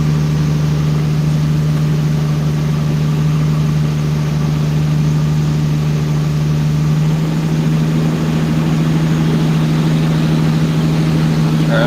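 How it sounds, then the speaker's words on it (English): A car engine held at full throttle on a dyno, with no boost and timing around 10 to 12 degrees, drones steadily and loudly for the whole stretch, a strong low hum that never lets up. "Alright, I'm full throttle right now."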